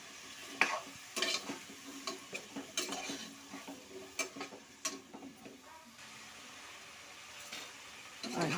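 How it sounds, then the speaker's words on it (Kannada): Cauliflower frying in oil, stirred with a spoon in a pan: close, repeated scraping and clinking strokes over a soft continuous sizzle, easing off toward the end; no talking. "ಹೂಕೋಸನ್ನು ನಾನು ಒಂದು ಐದು ನಿಮಿಷ ಎಣ್ಣೆಲ್ಲೇ ಫ್ರೈ ಮಾಡ್ಕೊಳ್ತೀನಿ"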